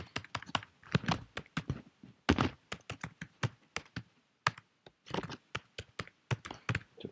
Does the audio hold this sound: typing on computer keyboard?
yes